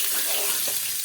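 Green chillies sauté over low heat in oil in a kadai, giving a steady, fairly loud hiss, a smooth rushing sizzle with little crackle, heard close and unbroken.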